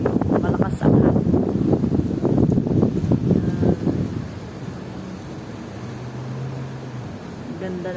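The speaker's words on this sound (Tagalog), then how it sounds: "So, malakas ang hangin." Wind rushes steadily past the microphone at an outdoor spot where a dog is being vaccinated, forming a broad noisy wash under a person's talking, which fades halfway through and leaves the gusty hiss more exposed.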